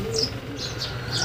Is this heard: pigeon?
yes